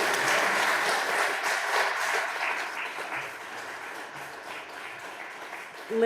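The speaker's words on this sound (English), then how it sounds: "I wanted everyone a big round of applause for Lily" Audience at an annual meeting applauding for a recent divinity graduate, a full round of clapping that starts strong and gradually thins and fades toward the end.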